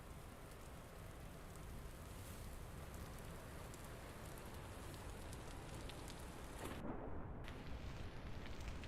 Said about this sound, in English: Back into the rain. It's rainy season.